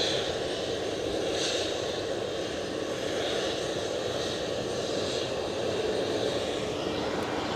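A WestJet airliner lines up on the runway at Edinburgh Airport, engines giving a steady, fairly distant hum and rumble with faint swells, no talk heard.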